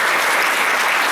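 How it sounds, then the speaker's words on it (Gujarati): A church congregation claps together, a dense, loud, steady burst of applause filling the whole short moment. "આવો તાળી પાડીને પ્રભુ"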